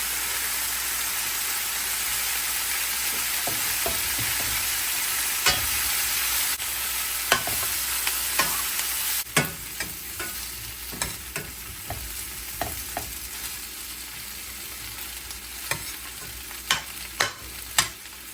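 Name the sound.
chopped garlic and fresh thyme sizzling, stirred in pan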